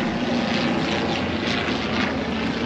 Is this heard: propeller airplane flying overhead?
yes